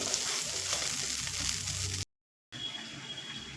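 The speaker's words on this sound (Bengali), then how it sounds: "দেখুন মশলা তো কষা হচ্ছে" Spice paste with rice, melon seeds and cashews frying and being stirred in a pan, a steady close sizzle with scraping, cut by a half-second gap of silence before the sizzling resumes.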